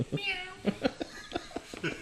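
A man imitates a cat with a string of short, nasal meow-like yelps, several quick vocal bursts close to the microphone with a faint chuckle mixed in.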